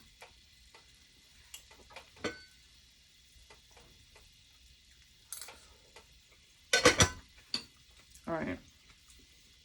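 Rice cooking in a pot gives a faint sizzle under occasional spoon scrapes and clinks, with a louder burst of stirring scrapes near the end; someone says a couple of words.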